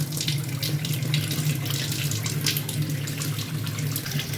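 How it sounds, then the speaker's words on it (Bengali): Rice is washed under a running kitchen tap for fish biryani, with a steady close stream of water splashing into a bowl and no talk. "চাল ধুয়ে নিলাম"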